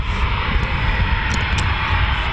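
RAF Eurofighter Typhoon FGR4 jet departing from QRA station RAF Coningsby during a live show, a loud, steady broadband engine roar filling the air without a break.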